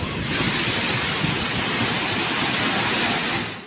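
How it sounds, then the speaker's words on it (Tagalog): Super Typhoon Pepito brings heavy, unrelenting rain and strong wind in the Philippines, heard as a dense, loud, continuous roar of downpour and gusts with no pauses. "Malakas na hangin na sinabayan ng walang tigil na buhos ng ulan."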